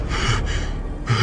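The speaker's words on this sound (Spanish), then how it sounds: "su respiración se escuchaba cada vez más agitada" Agitated, gasping breaths from an elderly man in the grip of a nightmare, two sharp intakes close and loud with a ragged rush of air between them.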